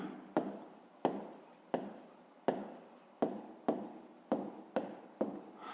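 A pen scratches on paper while working a fifth-grade maths exercise, about nine crisp, evenly spaced writing strokes, each a sharp tap trailing into a soft scrape, near and quiet with no voices.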